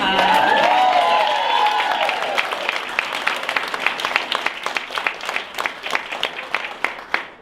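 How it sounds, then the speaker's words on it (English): An audience breaks into applause for John Zeller and Salem, dense clapping swelling under cheering voices at first, then thinning to scattered, distinct claps that fade out. "So a special round of applause to John Zeller and Salem."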